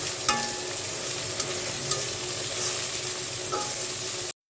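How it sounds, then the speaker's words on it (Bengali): Shrimp fry in hot oil in a pan with a steady, close sizzle and a few clinks of stirring, then the sound cuts off abruptly near the end. "হালকা একটু ভেজে নিই চিংড়ি মাছ দিয়ে দিলাম"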